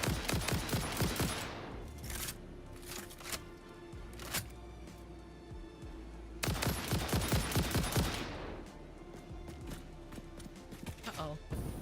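Gunfire in the video game Satisfactory, rapid bursts of repeated shots in two long volleys with scattered single shots between, loud and close, with someone talking over parts of it.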